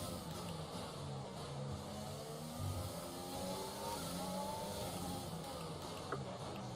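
Engine of a Formula 1 race car in the F1 2020 video game, driven with a Logitech G29 wheel around the Monaco, Baku or Canada tracks, screams continuously at high revs with rising pitch sweeps as gears shift, steady and loud with no talk.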